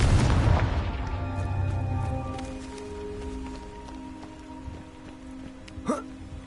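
A Confringo spell blast in the Hogwarts Legacy game opens with a loud booming burst that decays into a sustained ringing, tonal hum, followed near the end by a brief sharp whooshing accent.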